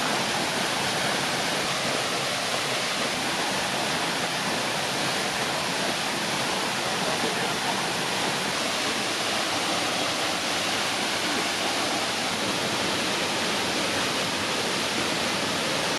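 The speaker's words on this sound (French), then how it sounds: "L'eau jaillit à partir d'une hauteur d'environ une dizaine de mètres." Tchéoun waterfall in the commune of Fongolimbi, dropping about ten metres from a spring ringed by wild forest, gives a steady, unbroken rushing roar throughout with no voices.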